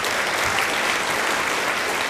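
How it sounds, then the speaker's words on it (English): Sustained applause from an audience at a spring high school orchestra concert, steady dense clapping filling the whole stretch with no pauses, fairly loud and close. "I'd love to give her a round of applause."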